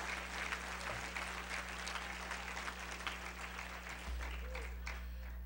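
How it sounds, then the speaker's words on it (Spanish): A congregation at a church concert applauds in a steady, even wash of clapping, with a low electrical hum running beneath it throughout. "Denle un aplauso a Cristo"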